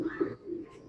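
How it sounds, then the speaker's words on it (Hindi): Soft, close cooing from a Kamagar breed male pigeon held in the hand, a low throaty coo swelling twice in the first half before fading into quiet murmuring. "11 नंबर कबूतर।"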